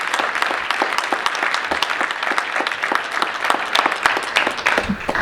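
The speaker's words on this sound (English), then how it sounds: "So thank you for that applause." Sustained audience applause at an in-person panel teach-in on the war in Ukraine, dense steady clapping from a sizable crowd that holds at an even level throughout without voices.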